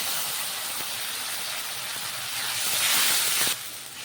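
Tomato paste hissing and sizzling hard in a pan of fried onion and garlic, a steady broadband spray of steam that swells louder toward the end before easing back slightly.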